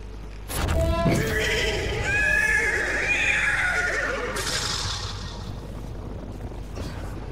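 A horse in the video game Destiny 2 lets out a loud, close whinny with a rising and falling pitch. Brief hoof clatter opens the call, and a quieter tail follows.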